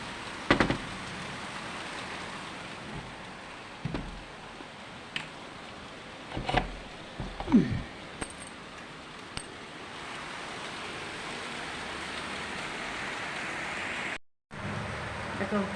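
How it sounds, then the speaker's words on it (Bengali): Rain falls on leaves outside an open window, a steady close hiss with a few brief knocks and clicks, and a short drop in sound near the end. "পাতার উপরে বৃষ্টি পড়ছে"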